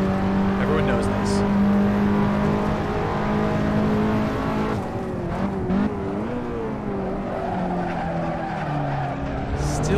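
A race car in the Assetto Corsa driving game runs at high revs, then drops gears into a series of turns, the engine note falling and wavering with tire noise, loud and close while someone talks over it.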